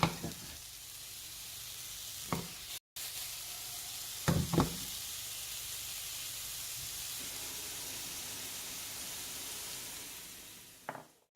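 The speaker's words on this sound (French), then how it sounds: "je vais faire revenir mon oignon, voilà, et mon échalote" Onion and shallot sizzle steadily in a frying pan for penne with salmon, a continuous close hiss broken by a few sharp knocks and stirring taps of a utensil.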